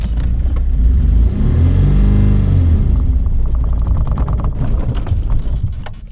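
A Russian Raptor off-road truck's engine revs hard and labors without pulling, the pitch rising and falling as it chokes and bogs down, loud and close, with mechanical clatter underneath.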